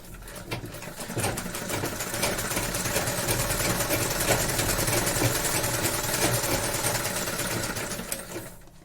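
A sewing machine runs a straight practice seam in one long, steady whirring burst that starts up, holds an even mechanical rhythm for several seconds, then winds down.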